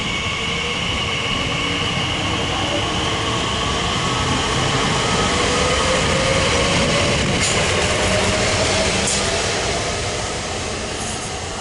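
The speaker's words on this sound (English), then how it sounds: "Quite busy, that train." A train passes on the Great Western Main Line at Hanwell, a loud continuous rumble and rushing roar with a faint rising tone, steady throughout and tapering slightly at the end, with no talking.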